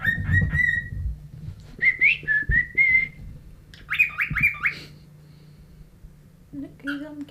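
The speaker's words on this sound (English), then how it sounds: "let's see if he does his wolf whistle." A pet cockatiel gives bright, rising and falling whistles in several bursts, including a quick run of repeated whistled notes, heard near and fairly loud between short stretches of a person speaking softly to it.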